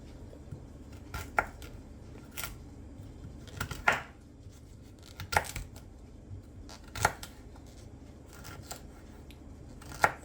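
A knife chops beetroot on a cutting board, sharp distinct taps spaced a second or two apart, some doubled, close but fairly quiet over a low steady background hum.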